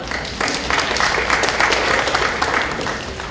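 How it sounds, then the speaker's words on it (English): Audience in a lecture room applauding a speaker at a talk on AI in education, a dense, steady wash of clapping that rises quickly, holds for a few seconds, then tapers. "thank you for clapping"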